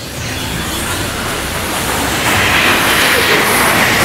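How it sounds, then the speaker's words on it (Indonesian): Fast-flowing river at Batu Belah waterfall in Sibolangit, a dense, continuous broadband rush of water that stays loud and grows slightly stronger midway, with no voices over it. "ini aliran sungainya cukup deras, pemirsa"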